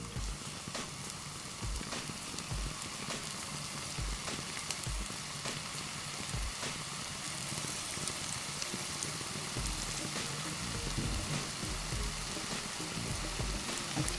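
Maggi manchurian balls frying in hot oil in a kadhai, a steady crackling sizzle like light rain, with occasional soft pops and bubbling, even and moderately close throughout.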